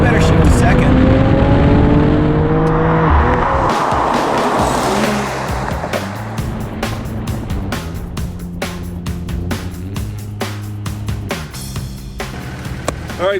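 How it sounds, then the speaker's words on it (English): A 2019 Mercedes-AMG CLS53 all-wheel-drive sedan launches at full throttle from a brake-held start, its engine rising loudly through the revs with a brief wheel spin and a clean upshift to second, under talk from people in the car. "Full throttle. You can hear it straining against the brakes."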